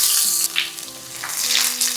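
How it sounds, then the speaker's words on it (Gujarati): Coriander stems tempered in hot oil give a loud, close, steady sizzle with brief crackling surges, and no one speaks. "કોથમીરના જે દાંડલા છે એનો વઘાર આપણે લઈએ છીએ."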